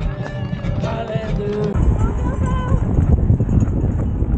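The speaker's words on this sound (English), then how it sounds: "It's rainy and windy, so windy right now." Strong gusting wind buffets the microphone during a rainy marathon in Calgary, a loud continuous roar of wind noise throughout, with faint voices under it.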